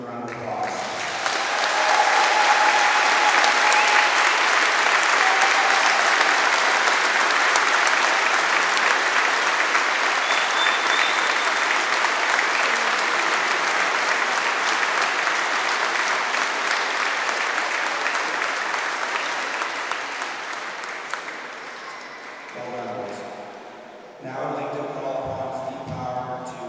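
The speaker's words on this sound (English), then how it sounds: "let's give a round of applause" Loud, sustained audience applause for a boys' under-15 hockey team that won gold at a national junior championship, filling a large hall for about twenty seconds before fading as a voice begins speaking.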